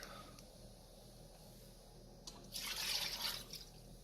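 Faint background hum, then one cup of water pours briefly into a pressure cooker pot, splashing into it for about two seconds.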